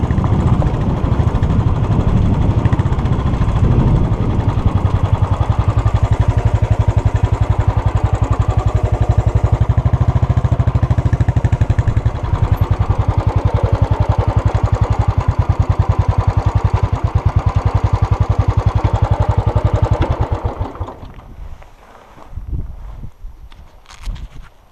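Royal Enfield Bullet 500 Classic EFI motorcycle riding off-road over ruts and potholes, its loud steady single-cylinder engine thumping close by for most of the stretch before dropping away to quieter rumbling near the end.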